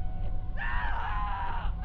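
A man, waking up trapped in a vehicle with his arm stuck, lets out a strained, wavering scream lasting over a second, loud and close.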